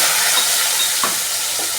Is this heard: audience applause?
no